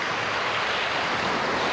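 Ocean surf on a beach in Puerto Vallarta, a steady broadband wash of waves with no distinct breaks, fairly loud and continuous throughout.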